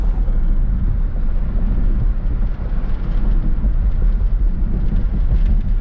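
A GM LT1 V8 idles steadily after a cracked number-eight rear spark plug was replaced and the plugs gapped, giving a close, loud, continuous low rumble with no talk over it.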